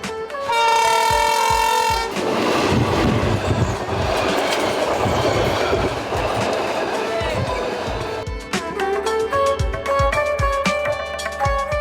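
A train passing on the Kollam–Chenkotta railway line near the Elampalloor Devi temple, loud and close: a horn blast opens, then heavy rumbling clatter of wagons, and the horn sounds again near the end.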